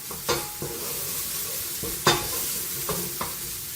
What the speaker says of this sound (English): The bacon starts to brown a bit.